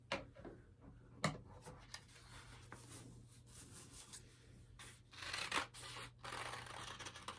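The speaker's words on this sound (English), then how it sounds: "So I'm going to cut this little acorn out" Paper being cut with scissors into two small acorn shapes, two sheets stacked together; soft close snips and rustling with a few sharper crinkles, fairly quiet, no talking.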